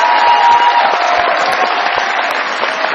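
A studio audience at a comedy show claps loudly and continuously to welcome a guest performer, a dense, even wash of applause with a little cheering mixed in.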